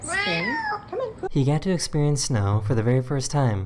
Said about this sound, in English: I have never heard a cat sound like this before.